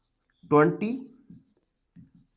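A pen writes numbers on paper during a decimals math lesson, with soft scratchy strokes around a brief burst of speech.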